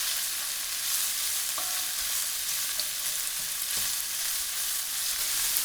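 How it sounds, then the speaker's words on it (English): Onions and fresh red chilies fry in a pan for a lamb stir fry, giving a steady, dense sizzle throughout with a couple of faint stirring clicks and no talking. "While the onions start crisping up, in goes fresh red chilies"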